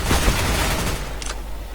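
Rapid gunfire in Counter-Strike: Global Offensive against bots, a quick close burst of shots over the first second, then a low lingering rumble with a faint click afterward.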